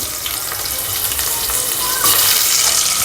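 Sliced onion dropped into hot oil in a pressure cooker for tomato soup, a dense, loud, continuous sizzle with slight stirring movement.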